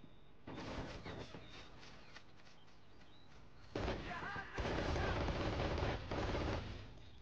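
Bursts of machine gun fire crackle in a World War II battle in Men of War: Assault Squad 2, rattling volleys that start and stop, growing louder and denser toward the end.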